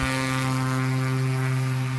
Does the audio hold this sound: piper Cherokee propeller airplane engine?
yes